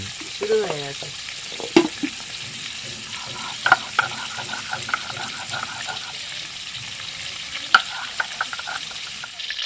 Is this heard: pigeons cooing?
no